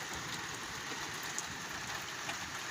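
Heavy rain in Riyadh pours down in a steady, continuous hiss with a few scattered drop impacts and no voices.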